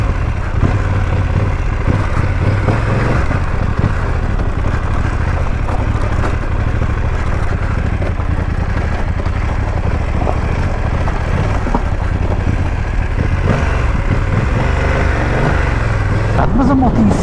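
A 2024 BMW F 900 GS motorcycle is ridden off-road, its engine and wind noise forming a continuous low rumble throughout while the rider talks over it.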